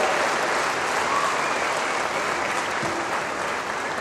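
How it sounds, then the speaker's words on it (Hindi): An audience at an outdoor tree-planting event in Indore claps in a sustained burst, a loud, dense wash of many hands that holds steady for several seconds before easing slightly. "इसे दोनों आईजी के लिए ताली बजाइए जरा।"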